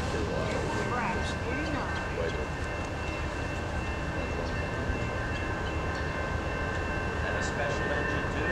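A steady rumble of a passing Amtrak Northeast Regional train at Ashland, Virginia fills the clip, continuous and fairly even, with faint murmurs of voices under the rolling noise.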